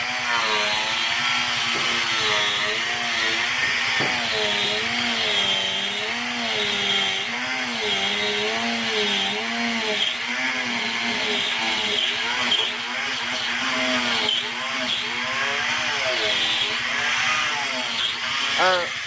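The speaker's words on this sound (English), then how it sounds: "So we are using the grinder in order for it to be cut." An angle grinder cuts through a tire with steel wires inside, making a loud, continuous high-pitched whine whose pitch wavers as the disc bites and eases through the rubber and wire.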